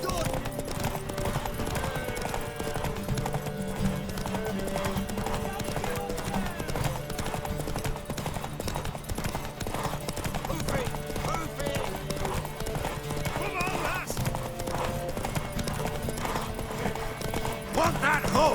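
Horse hooves clip-clop steadily with neighing and whinnying in The Witcher 3 on PS5, set against constant game music and background sound, while character voices talk over it.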